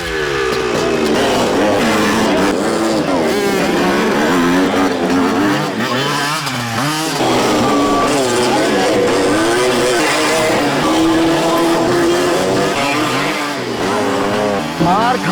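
Stunt bikers' motorcycles roar and rev continuously up close, with engines rising and falling through the whole stretch, loud and busy.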